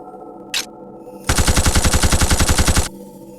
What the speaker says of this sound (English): I call it the repeater arm cannon.